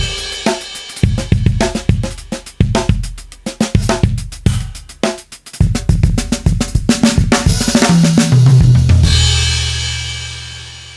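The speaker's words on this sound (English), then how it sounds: "It has a much more fluffy and tasty kind of drum sound while retaining some, intensity and aggression." A punchy programmed drum kit with a dark, heavily compressed mix, steady beats driving throughout with no voices.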